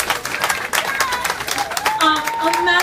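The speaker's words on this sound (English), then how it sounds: "Can everyone give her a big round of applause?" Guests at a club's Cherry Queen crowning clap for the club president, a burst of close hand claps followed by talking.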